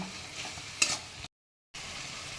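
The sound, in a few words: stir-frying spices with tomato for chicken liver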